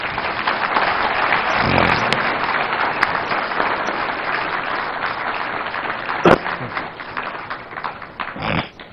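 Audience at a policy discussion on a West African development strategy gives sustained applause for President Mahama, a dense steady clapping that tapers near the end.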